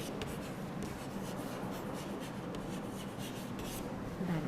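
Writing on a board during a tenth-grade chemistry class on balancing equations: a continuous scratchy rubbing with small strokes, fairly close and steady throughout, with no speech.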